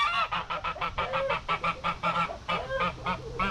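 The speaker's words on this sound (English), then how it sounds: "Here's the geese." Geese honk repeatedly in a rapid, overlapping chorus, loud and close, with no talking.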